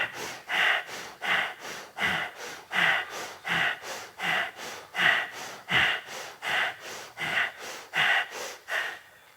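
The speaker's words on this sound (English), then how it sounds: "Free the hand, breath of fire through both." Rapid, forceful breath of fire breathing through both nostrils in a yoga kriya, a steady train of about twenty sharp, evenly spaced nasal exhalations, close and loud, with no talking.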